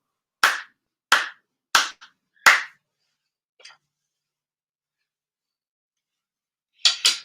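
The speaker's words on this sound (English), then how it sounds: "4 sincere claps" Four ritual hand claps at a Konko Kyo New Year prayer service, sharp and evenly spaced, followed by a faint tap and then a softer pair of claps after a pause.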